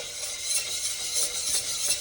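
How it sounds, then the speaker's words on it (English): Onions stirred in a hot pan with a utensil, a soft continuous sizzle with light scraping and occasional clinks, close and steady, no talking. "Keep on stirring, because these onions are good right here."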